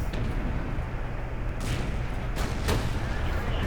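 Tank cannon fire in the World of Tanks game, with the ARL 44 tank shooting at a T-29: dense, continuous booming and gunfire with sharp blasts near 1.6, 2.4 and 2.7 seconds over a steady rumble.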